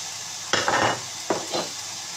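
Mushroom paprikash with oyster mushrooms, garlic and herbs is stirred in a pot, with two short scraping sweeps and a soft sizzle beneath.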